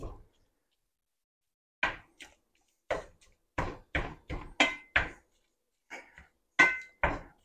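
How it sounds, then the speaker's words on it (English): A meat chopper tool strikes ground meat and onion in a skillet while chili cornbread casserole is prepared, giving about a dozen sharp, irregular knocks and scrapes with short pauses between them, close and alone. "that's one of the best inventions they ever come out with for chopping meat, you know, or getting it chopped up good in a skillet like this"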